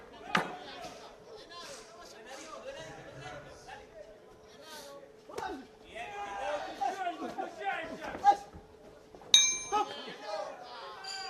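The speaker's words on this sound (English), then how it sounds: "there goes the bell" A ringside bell clangs to end a 63.5 kg men's bout at the IBA 2025 world boxing championships. Its bright ring cuts through steady commentary and crowd chatter near the end.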